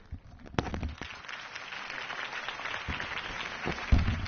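Crowd applause following Harvey Dent's campaign speech in the Batman Telltale game, a steady wash of clapping lasting several seconds at moderate loudness with no voices over it.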